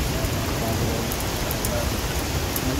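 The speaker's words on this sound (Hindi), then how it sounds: "भयंकर बारिश हो रही है।" Heavy rain pours down steadily, a dense constant hiss of drops on surfaces, heard close and fairly loud throughout the short stretch.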